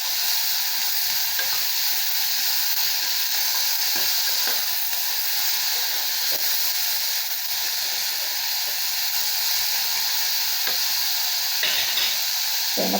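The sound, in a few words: dal frying with chillies, tomato, garlic and ginger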